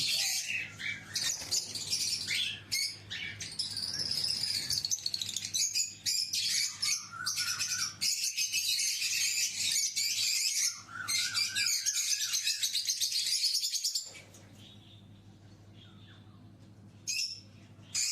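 Pet budgerigar pairs in a home bird collection chirp and chatter constantly, a dense, close flock of high twittering calls and squawks that drops away near the end.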